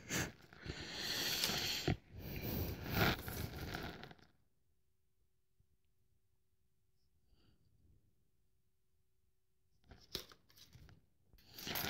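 Packing tape tears off an electronics box during an unboxing, several loud ripping and crinkling bursts close up, then a long quiet pause before more tearing and rustling resumes.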